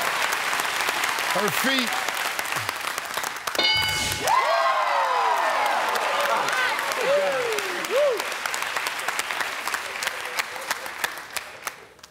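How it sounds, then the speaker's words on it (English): Studio audience on a family game show breaks into sustained applause and cheering that fills most of the stretch, with a host and contestant talking over it and occasional shouts rising from the crowd. "You can clap all you want."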